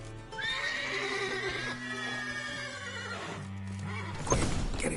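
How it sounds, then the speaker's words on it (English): Horses in The Witcher video game give a long, loud whinnying neigh that rises and trails off, then a second shorter neigh, with faint hoof clops in the stable. "Gotta calm all the horses before they wake the guards."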